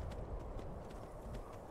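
Horse hooves clip-clop steadily in Skyrim Anniversary Edition, a dense, evenly paced run of muffled thuds that continues unbroken for the whole stretch at moderate loudness.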